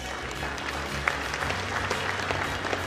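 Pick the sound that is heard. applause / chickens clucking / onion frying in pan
applause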